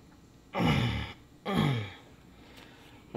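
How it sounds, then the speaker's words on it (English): Two heavy, loud breaths through the nose at close range during bottle opener crafting, each a long rushing exhale with a short pause between, then a quieter tail. "I apologize for breathing like a horse right here."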